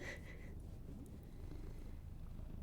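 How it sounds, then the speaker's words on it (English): Close, steady cat purring fills the clip, a low rhythmic rumble with a faint short squeak at the very beginning. "Let's see if we can hear him purr."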